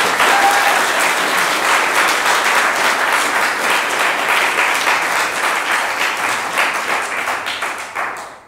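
Sustained audience applause at the Linux Australia annual general meeting, a dense even patter of many hands clapping in a hall that fades out toward the end.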